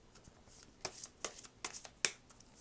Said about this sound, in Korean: 이 카드 한 개 더 뽑아볼게요.